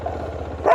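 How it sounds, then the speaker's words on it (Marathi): A dog by a roadside near Korigad Fort gives a short, close bark, a single yelping burst at the end of a low steady engine hum. "बाकी सर्व कुत्रेच कुत्रे आहेत"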